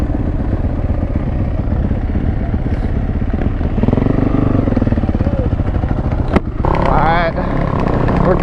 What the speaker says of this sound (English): That two-stroke vibing, bro.